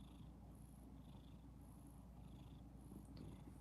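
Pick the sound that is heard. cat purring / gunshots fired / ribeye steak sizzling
cat purring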